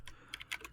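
Keystrokes on a Royal Kludge RK61 budget keyboard, a quick run of crisp clicks in an irregular rhythm, close and fairly quiet, heard alone.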